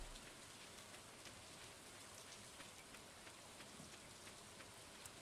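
Rain falls steadily in the video game Stardew Valley, a soft, even patter of drops with no break, faint and alone without any talk.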